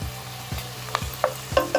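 Sliced onions and four cut green chillies fry toward golden brown in a pan, a soft continuous sizzle under several sharp taps and scrapes of a stirring spoon, with no voices.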